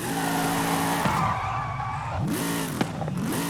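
A Formula Drift car in Forza Horizon 5 roars and revs loudly while its tires skid and squeal through a slide, with the engine pitch dropping and climbing again as it shifts.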